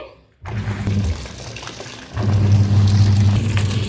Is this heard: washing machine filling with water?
yes